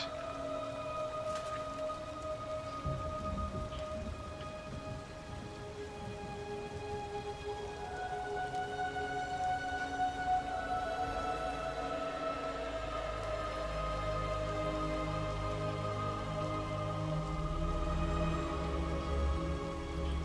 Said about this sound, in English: The healing rain.